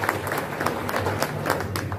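An audience at a political gathering in Sindhudurg claps in scattered bursts, a moderately loud patter of applause with repeated sharp hand claps rising and falling.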